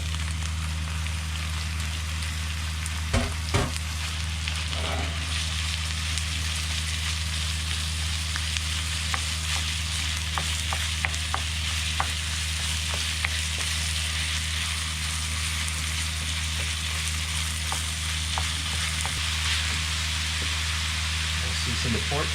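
Pork mince and garlic fry in a pan with a steady, moderately loud sizzle and occasional utensil clicks and scrapes, a low constant hum running underneath.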